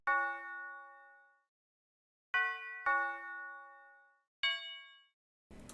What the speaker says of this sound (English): And finally we got a tubular bell.